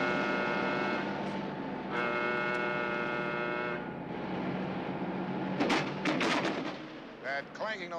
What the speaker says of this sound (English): Clanking noise you hear. That's one of our drivers hooking up a tractor to a reefer pig.